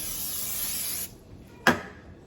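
A cooking spray can hisses steadily for about a second onto food for the grill, stops, then a sharp clack sounds.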